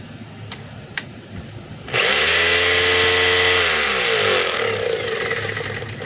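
A DeWalt D25032 rotary hammer drill runs in forward after a couple of faint clicks, its motor spinning up to a loud, steady whine that holds close and continuous for about four seconds.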